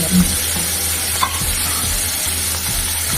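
Morla fish frying in a pan give off a steady, close hiss of hot oil with faint stirring, short and unbroken, no voices.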